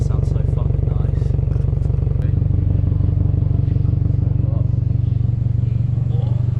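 A Subaru WRX STI with a Tomei Expreme Ti titanium exhaust idles with a deep, steady, loud burbling rumble that pulses evenly, and a voice speaks over it.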